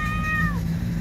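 A tomcat in mating season gives one clear, close meow that slides downward, set against a steady low hum, with no voices.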